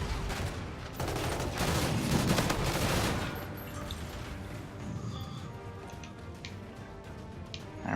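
Rapid bursts from a Scorpion submachine gun in Call of Duty: WWII rattle out during a match, loudest in the first few seconds, then thinning into scattered shots and clatter.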